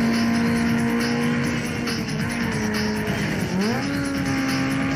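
Street racing car in Need For Speed Underground 2, a loud continuous engine whine holding steady then dipping and climbing again as it shifts, with road and tire noise underneath and no talking.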